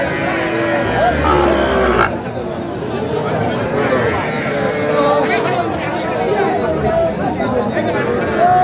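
A Sahiwal bull calf gives a low moo amid constant crowd chatter and bargaining voices at a busy rural cattle market in Chuadanga.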